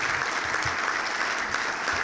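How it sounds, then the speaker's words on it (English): A crowd applauding steadily, dense clapping that holds even throughout the short stretch. "let's have a round of applause for Sue"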